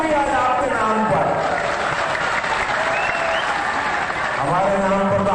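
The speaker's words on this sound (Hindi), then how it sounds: "और ताली आज आपके नाम पर" Steady, dense applause from a large audience at a public inauguration event in Darrang, Assam, continuing throughout while someone speaks over it.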